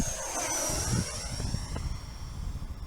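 A FlyFans 64mm L-39 radio-controlled jet with a 6S setup flies past at half throttle, its steady ducted-fan whine holding a high, even tone with a broad rushing roar underneath, fairly loud and without voices.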